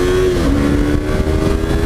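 A Yamaha R3 motorcycle engine revving hard under acceleration, loud and close, with a steady buzzing drone and a pitch that dips as it shifts and then climbs again, continuous throughout.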